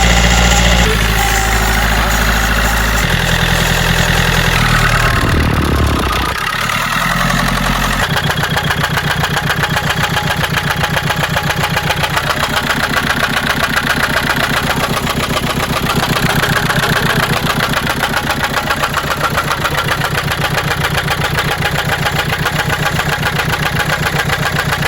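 A Citroën C3 engine runs loud and rough, with a brief surge and lurch early on before settling into a steady, labored drone that holds throughout.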